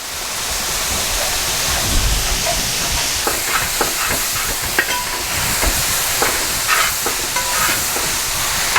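Onions with two spoons of rock salt fry in a pan, giving a steady loud sizzle and hiss, with repeated scraping and clinking as a spoon stirs them.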